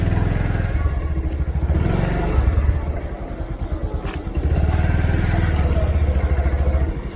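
A motorcycle rides along an open road with steady engine drone and wind rumble, a slight dip and return in power midway, heard close up from the rider's position.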